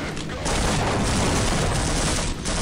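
Dense, continuous gunfire from the video game Half-Life, loud and close, with overlapping shots and booming impacts running through most of the stretch, and a short quieter gap near the start.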